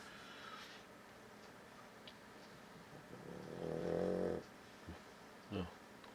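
A person snores with a snarfling snort, a rough low burst rising and fading over about a second, followed by two shorter snuffles in a quiet room with faint background hum.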